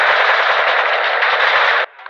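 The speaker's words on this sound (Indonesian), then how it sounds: "kelompok pemberontak membalas tembakan mereka dengan tembakan yang membabi buta" Dense machine-gun fire from rebels shooting wildly in a 1993 sniper film, a loud continuous roar of rapid bursts that cuts off abruptly near the end.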